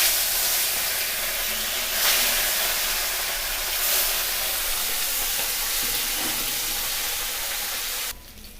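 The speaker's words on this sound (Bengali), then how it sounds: "ঠিক এই করে আমরা আর বাকি যে মাছগুলো আছে সেগুলো ভেজে তুলে নেব।" Parshe fish frying in hot oil in a pan, a steady broadband sizzle and hiss running throughout with small swells, close by, no talking, cutting off sharply near the end.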